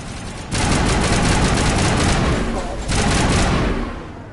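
Bursts of rapid automatic gunfire in a combat video game, loud and continuous for several seconds, pausing briefly before another sustained burst.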